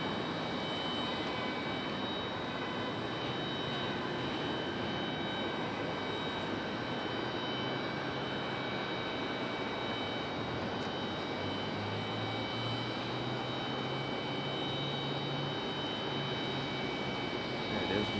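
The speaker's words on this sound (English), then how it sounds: "There it is, American A321." An American Airlines Airbus A321 jet at Raleigh-Durham International Airport, a steady, broad engine roar with a slowly shifting tone that holds for the whole stretch, heard from a distance with no voices over it.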